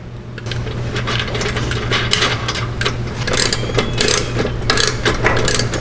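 A nut snugged down on the clamp of a UTV stereo speaker pod gives a steady metallic ratcheting and clicking, close up and continuous for several seconds.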